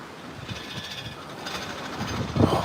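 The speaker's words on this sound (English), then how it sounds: "You can hear the rails rattling from the wind." Rails on the Seven Mile Bridge in the Florida Keys rattle in strong wind, a steady, gusty rumble with faint irregular clatter that builds toward the end, and no talking.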